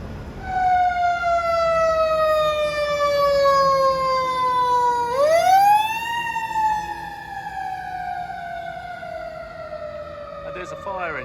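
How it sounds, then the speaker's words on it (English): A fire engine siren in Hollywood, Los Angeles wails steadily, dropping in pitch, then swooping up again partway through before holding a long descending tone, loud over background street noise. "And there's a fire engine."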